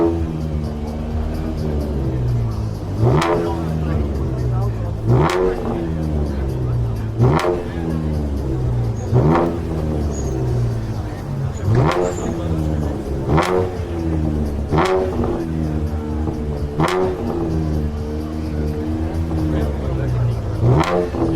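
A car engine revs repeatedly at a stance car show during an exhaust decibel measurement, about nine sharp rising bursts evenly spaced over a steady idle, loud and close, with people talking between revs.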